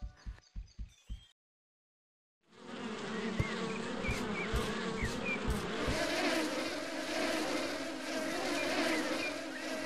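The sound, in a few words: bees buzzing in a video game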